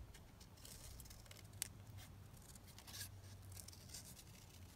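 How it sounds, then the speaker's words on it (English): Scissors snip out a paper craft pocket piece, quiet crisp cuts with a few sharper clicks over a soft low background hum, no voices. "I'm just going to cut this one out, actually."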